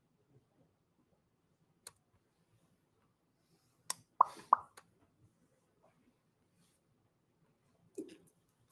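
A single sharp sneeze bursts out in a quiet geology lecture room, preceded and followed by a few faint clicks and taps.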